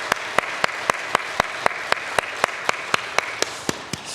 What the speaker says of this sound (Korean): 하나님 앞에 영광의 박수 올려드리십시다